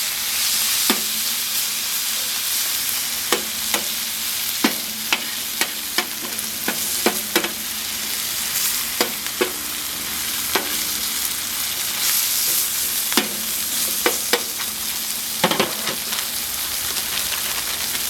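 Thin-sliced Philly cheesesteak meat fries in a hot pan as a steady, loud sizzle with no break, crossed by frequent scraping and stirring clicks from a utensil.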